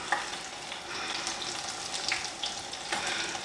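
Battered onion rings frying in hot oil with seasoning salt, a close, steady crackling sizzle with small pops and bubbling throughout, no talking.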